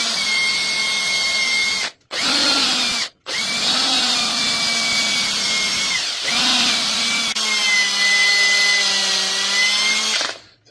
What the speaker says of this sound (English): And we're going to drill right into that bone.